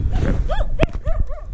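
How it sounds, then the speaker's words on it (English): Several dogs barking along a rural trail on the Quilotoa Loop in Ecuador, a handful of close, loud, sharp barks in quick succession with a brief yip among them. "So many dogs."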